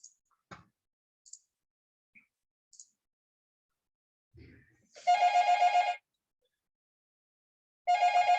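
A telephone rings in two bursts of electronic trilling, a long one and then a second starting near the end, in an otherwise quiet room with a few faint ticks and taps before.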